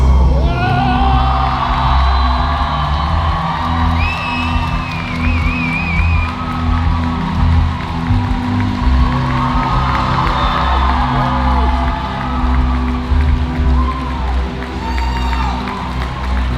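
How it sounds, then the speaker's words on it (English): A packed crowd at a Q&A fan event in Belgium cheers loudly for actor Gaten Matarazzo, with whoops, shouts and applause mixing into a continuous roar that never lets up. "give warm applause for the awesome, the charming, the fantastic Gaten Matarazzo"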